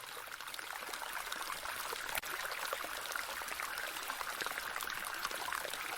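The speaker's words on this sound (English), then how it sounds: "they discovered a small spring flowing gently from between the rocks" A small spring trickles gently over rocks in a forest, an even, continuous bright babble of flowing water at close range with a single faint click partway through and no voices.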